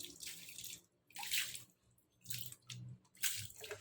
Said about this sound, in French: J'ai mis un peu trop d'eau.